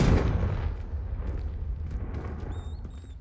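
A Confringo blast spell in Hogwarts Legacy goes off as a loud, booming burst at the start, then a rumbling, crackling tail fades out over a few seconds, with faint tonal game chimes near the end.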